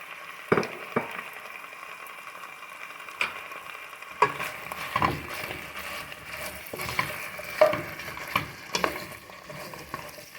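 Chopped onion and a couple of garlic cloves frying in a pot for Iraqi curry rice, with a steady soft sizzle and repeated scraping stirs and knocks of a utensil against the pot, close and without talk.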